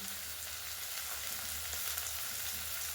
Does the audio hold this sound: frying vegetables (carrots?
yes